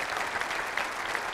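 A crowd at a breakfast event applauds the speaker's parents, a brief burst of dense, even clapping.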